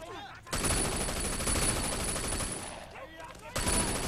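Rapid gunfire from a video game's street shootout, a dense sustained burst of shots loud and close for about three seconds, a brief lull, then another volley.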